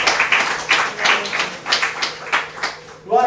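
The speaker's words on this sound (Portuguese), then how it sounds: "Dê uma salva de palmas ao Senhor." A church congregation claps for the Lord in a steady rhythm of loud, evenly spaced bursts that continue for a few seconds.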